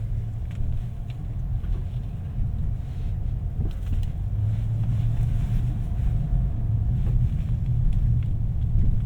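A 2026 Ford Maverick XLT light truck with a 2-liter engine rolls over road bumps, giving a steady low rumble of engine and road noise with faint thumps and no talking.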